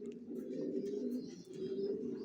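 Racer pigeons coo in their loft, a low, continuous rolling burble from several birds close by, with a couple of brief dips in level.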